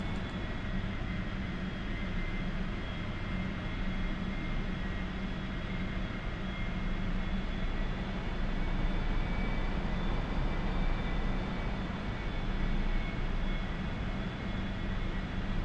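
An A-4E-C jet engine roars steadily in DCS World, a loud and continuous drone with a faint high whine that holds even throughout.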